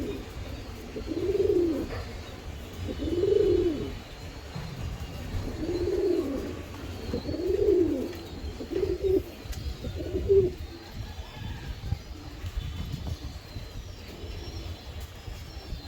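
Giribaz pigeons coo in a steady series of low, rounded calls, about six distinct coos spaced a second or two apart, close by, fading into softer murmuring background noise toward the end.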